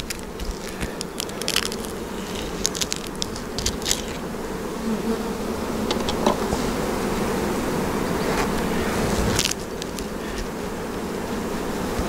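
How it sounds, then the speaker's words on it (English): Dense swarm of honeybees droning steadily around an open hive during a June inspection, a continuous close buzz with individual bees zipping past the ear, no talking. "Hopefully I don't get a veil full of bees."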